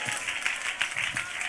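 A church congregation breaks into steady applause during a Tamil Christian sermon, a dense wash of many hands clapping together at close range, with voices mixed in beneath the clapping.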